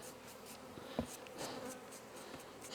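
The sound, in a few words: honey bees buzzing around an opened hive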